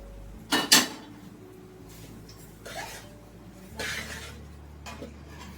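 Fried peanuts and cashews mixed into lemon rice in a pot, several brief metallic clinks and scrapes of a spoon against the vessel, spaced apart with quiet stirring between them and no talking.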